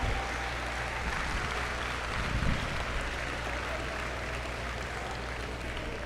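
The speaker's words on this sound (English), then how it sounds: "please give them a round of applause." Applause from a crowd in a basketball gym fills the space evenly, a steady dense patter of clapping heard from a distance and lasting several seconds.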